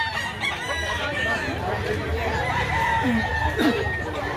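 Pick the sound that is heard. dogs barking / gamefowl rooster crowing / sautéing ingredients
gamefowl rooster crowing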